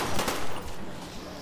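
A short burst of rapid gunfire from a new weapon in Black Ops zombies, loud and close, fired at a zombie, with the shots running together and then trailing off into a noisy tail.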